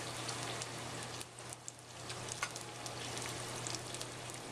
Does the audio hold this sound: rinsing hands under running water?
yes